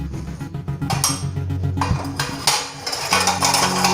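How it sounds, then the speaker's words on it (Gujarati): Metal pots and dishes clink and clatter as they are lifted onto a shelf, a close, loud series of irregular clanks and rattles with no talk. "આ વાસણ ચડાવવાની કોશિશ કરું છું"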